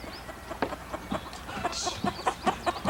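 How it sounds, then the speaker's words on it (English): Several chickens coming in cluck close by in short irregular bursts, one higher squawk rising briefly in the middle. "The chickens are coming in."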